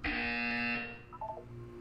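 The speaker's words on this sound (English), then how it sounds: "You will hear a buzzer." A harsh electronic buzzer sounds once for about a second in the Portal 2 video game, loud and steady before cutting off, followed by a faint electronic blip.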